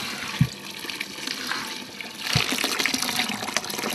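Beech-ash lye pours and splashes into a large cauldron in two bursts, with a trickling, watery sound continuing between them.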